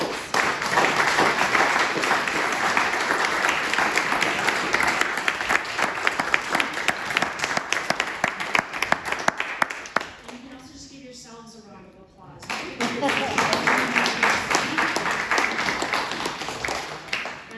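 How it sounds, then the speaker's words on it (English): A room of people gives candidates a round of applause at a 2022 candidates roundtable, dense sustained clapping for about ten seconds, a brief lull with a voice, then the clapping swells again. "If everyone wants to just give our candidates a round of applause"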